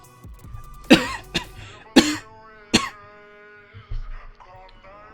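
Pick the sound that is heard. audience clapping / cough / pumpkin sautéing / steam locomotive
cough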